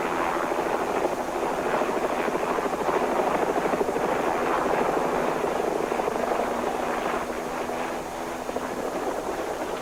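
A helicopter's rotor thrums steadily and loudly overhead, a continuous beating drone that fades slightly near the end.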